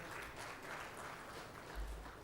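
Faint audience applause welcoming panelists on stage at an automation industry event in Chennai, a soft continuous clapping texture heard from a distance.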